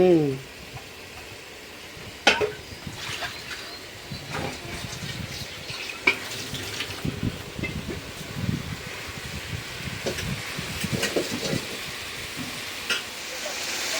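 Spice paste being sautéed in a pan: a continuous close hiss and sizzle punctuated by occasional scrapes and knocks of a spoon stirring against the pan.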